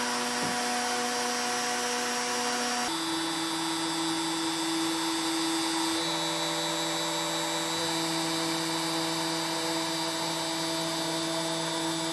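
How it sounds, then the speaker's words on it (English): A CNC machine drills locating holes into an anchor board and a spoil board, giving a steady, loud mechanical whine with sustained tonal hum that shifts pitch twice, running alone throughout. "I'm drilling locating holes"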